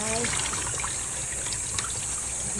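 Water runs steadily from a tap over boiled quail eggs to stop them cooking, a continuous close splashing and trickling that stays even throughout, with no talk over it.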